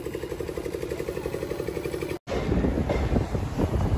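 An Intercity SuperFast Express train, Bhubaneswar to Visakhapatnam number 22819, runs past Ichchapuram station, heard from on board as a steady rumble with rhythmic wheel clatter, briefly cutting out before the loud rolling noise resumes.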